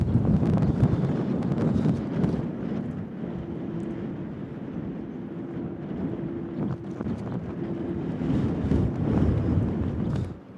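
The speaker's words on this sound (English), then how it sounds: "It's just gusting and whipping around and this way zigzagging" Gusty storm wind roars across the microphone at an airport in a continuous rumbling buffet that rises and falls, with a faint steady mechanical hum in the middle.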